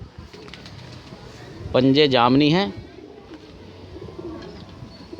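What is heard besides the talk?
pigeon cooing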